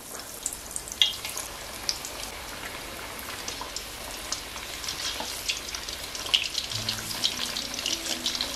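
Sweet potato pieces deep-frying in hot oil give a steady, soft crackling sizzle with scattered pops throughout, close and fairly quiet, with no talking.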